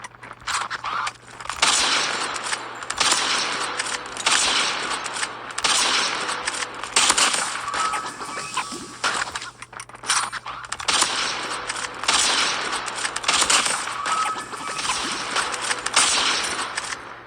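Rapid bursts of automatic gunfire crackle through a Call of Duty Mobile match, sharp repeated volleys with brief gaps between them, running continuously without any voices.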